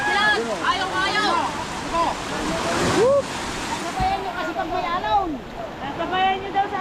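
Sea waves wash and splash around a small wooden boat on open water, a steady rushing churn with intermittent slaps, heard under excited shouting and talk from people aboard.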